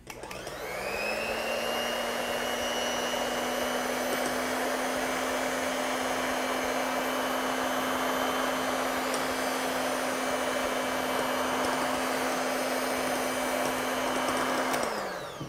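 An electric hand mixer beats cream for chocolate mousse, running as a steady, loud motor whine with a constant pitch. It starts up at the beginning, holds unbroken for about fourteen seconds and then cuts off, with no voices heard.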